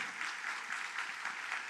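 A church congregation at an early-morning revival service claps together in a brief burst of warm applause, steady and moderately loud, with no talk over it.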